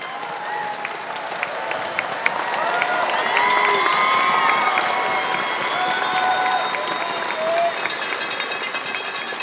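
A packed arena crowd at a bass fishing tournament weigh-in stage cheers, whoops and applauds steadily for the whole stretch, a loud dense roar with scattered shouts and voices mixed in.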